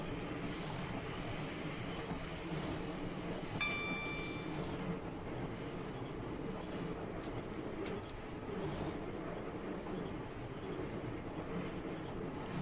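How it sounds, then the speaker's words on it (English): A Networker train coasting on the London to Faversham high-speed line in a train simulator game at night, a steady, low rumbling rail drone with a brief faint whine partway through. "So I'm letting the train coast along because I have the time."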